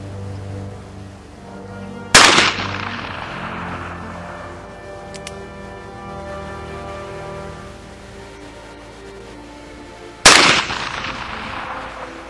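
A heavy old revolver fires two loud, sharp shots about eight seconds apart, each cracking out and decaying into a lingering echo over a quiet outdoor background.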